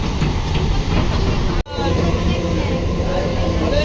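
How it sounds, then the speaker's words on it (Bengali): A train rumbles and hisses into a busy railway station platform with a loud, continuous roar, a brief dip in the noise partway through, and faint voices in the background. "ওদিকে একটা ট্রেন ঢুকেছে"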